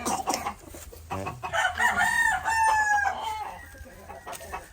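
A rooster crows close by in a long rising and falling call, preceded by some clucking and rustling, loud and clear with no talking over it.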